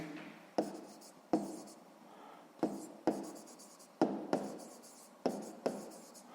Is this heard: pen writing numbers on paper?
yes